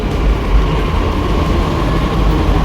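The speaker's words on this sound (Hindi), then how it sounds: "ये रही अपनी नोएडा वाली मेट्रो, मैं इसी से जाऊँगा।" Delhi Metro train at the Noida City Centre station platform, a steady loud low rumble and hum of the train running continuously, with no voices over it.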